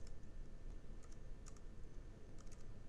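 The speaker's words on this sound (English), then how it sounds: "So, now you type in the album name." Faint computer keyboard typing, scattered light key taps in small irregular clusters over a low steady hum, with no voices.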